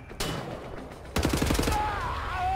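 Heavy turret gunfire in Wolfenstein: The New Order, a rapid burst of shots kicking in abruptly after a quieter stretch of game ambience, followed by a rising whine.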